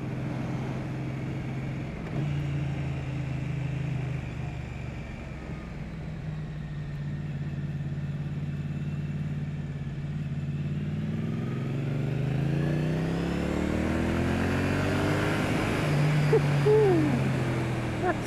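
A low, steady engine rumble from a Triumph Street Twin motorcycle exhaust drones throughout, rising in pitch toward the end as the bike accelerates, with no voices.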